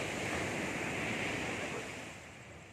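Ocean surf at night on a beach in Baler, Aurora: a broad, continuous roar of breaking waves that swells and then slowly fades, faintly heard at a distance with no talk.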